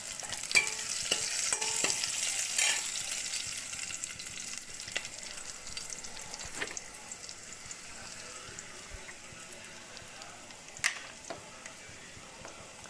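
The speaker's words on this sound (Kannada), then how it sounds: "ಒಗ್ಗರಣೆಗೆ. ಈಗ 4 ಒಣ ಮೆಣಸಿನ್ಕಾಯಿ ಹಾಕ್ತಾಯಿದ್ದೀನಿ." Dry red chillies fry in hot tempering oil for a Kannada-style greens dal, giving a steady, moderate sizzle with scattered crackles and a few sharp clinks. No one speaks.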